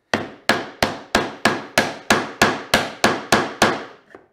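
A mallet strikes a chisel again and again, knocking it through a piece of wood on a small hand-tool workbench. Eleven sharp, close blows land at an even rhythm about a third of a second apart, with a softer final tap.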